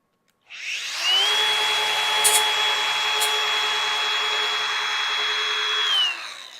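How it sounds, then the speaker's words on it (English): Steady, continuous whine of an angle grinder fitted with a FLEX see-through grinding wheel, starting abruptly, holding loud and even for about five seconds with light workpiece scraping, then spinning down, with no talk. "and actually see what we're grinding"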